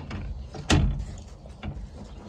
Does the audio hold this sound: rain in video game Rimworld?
no